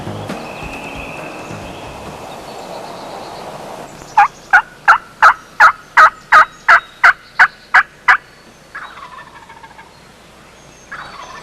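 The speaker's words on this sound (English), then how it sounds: "The same turkey we heard at daybreak." Wild turkey gobbling on a pine ridge, a fairly close, loud series of about a dozen rapid, evenly spaced gobble notes, then a brief fainter call afterward, heard over quiet outdoor background.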